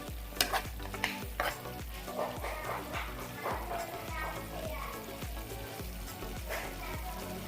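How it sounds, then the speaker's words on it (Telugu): A spoon stirs drumstick and tomato curry with garam masala in a pan, scraping in steady repeated strokes over a constant sizzle, close and clear, with no talking. "కూరకి బాగా కలిపి పెట్టుకోండి"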